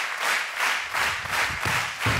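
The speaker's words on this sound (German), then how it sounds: "Ihr Applaus für Markus Gisdol." An audience at a goal-wall shooting contest claps steadily in a dense, continuous applause, moderately loud with a slight rhythmic swell.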